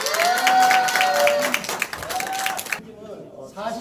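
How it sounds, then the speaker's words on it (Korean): Applause from a scouting association audience in Korea, welcoming the youth committee chair, fairly loud and sustained with voices over it before fading near the end. "풋풋하고 상큼한 최진실 위원장을 박수로 맞아주십시오"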